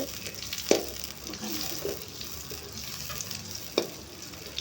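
Butter melts in a pan for tempering pongal, giving a soft, faint sizzle with a couple of sharp metallic clinks, heard close and quiet.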